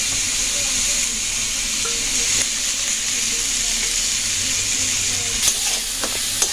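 Shyama rice being dry-fried in a pan for khichuri, a dense, continuous sizzling hiss with soft stirring scrapes near the end, close and steady, no voices.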